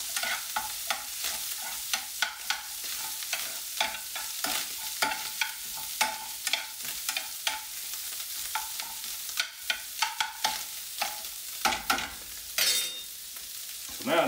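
Sausage browns in a frying pan for single-serving gravy, with an ongoing sizzle and repeated scraping strokes of a spatula stirring and pushing the meat around.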